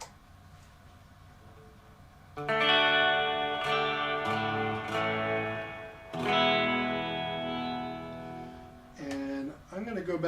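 An electric guitar, a Jazzmaster through a 1960 Fender Super amp, plays ringing chords that sustain and wash out with reverb, notes blooming and lingering between strums.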